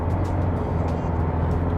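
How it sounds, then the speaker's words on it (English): Isuzu D-Max facelift diesel engine rumbling and revving slowly, a loud low clattery drone heard steadily throughout, with no talk. "you're always well aware of the diesel clatter up front, and if you ever rev it up like so"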